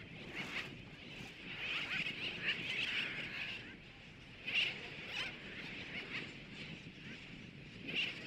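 Seabirds calling on Atol das Rocas, a remote island atoll, with repeated harsh honking and chattering calls from a dense colony, steady and fairly loud throughout, with louder bursts near the middle and the end.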